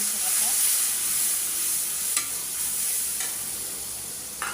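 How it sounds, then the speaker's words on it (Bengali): A blended paste of ginger, garlic, green chili and onion fries in a pan for an egg and potato curry, making a loud continuous sizzle with a few sharp stirring clicks. "এটা ভালো করে আগে আমি কষায় নেব।"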